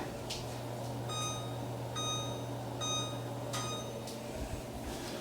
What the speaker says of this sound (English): So I'm gonna set the timer for 25 minutes